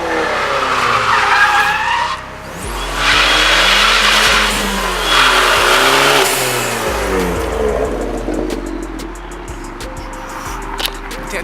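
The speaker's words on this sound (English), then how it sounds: "I spun out. I was hit the turn too hard." A Fiat Abarth on an Eibach lowering kit spins out on a turn, tyres skidding and squealing loudly over the engine's drone, with several long screeches rising and falling close by before the car settles.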